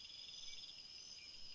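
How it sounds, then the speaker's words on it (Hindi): Crickets chirp at night around the courtyard of an old mud house in a village. The dense, continuous trilling hangs steady and moderately faint throughout, with no voices. "झींगुरों की आवाज गूंज रही है।"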